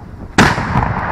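A Landsknecht black-powder gun fires a single sharp, loud blast at a monastery market, breaking in abruptly after a quiet outdoor murmur and trailing off in a long rumbling echo.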